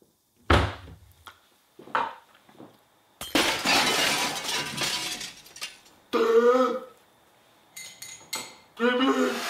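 A drinking glass shatters in a café while a frappé is being ordered, with a loud crash of breaking glass and clattering pieces amid dish and cutlery clinks, broken up by bursts of nearby talk.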